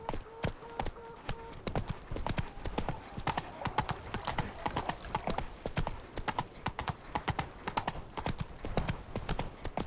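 Roach, the horse in The Witcher 3, trots with steady, close clip-clop hoofbeats throughout, and a faint game tone and brief murmur sit underneath.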